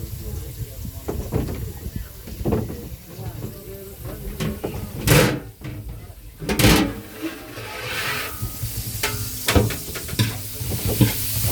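Onions fry in a pan for a sardine curry, with a steady sizzle and stirring, spatula scrapes and a couple of louder knocks. A voice talks at times over the cooking.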